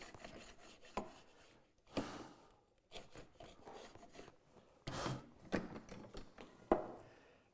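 Hand tool paring shavings of wood to fit a tenon for a door, with scattered rasping, rubbing strokes of varying strength, close and quiet, with pauses between.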